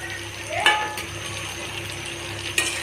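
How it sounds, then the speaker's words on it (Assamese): Mutton curry with potatoes is stirred in a pan, with two sharp scraping clacks of a spoon against the metal over a low, steady cooking sizzle. "এতিয়া অলপ লৰাই দিম।"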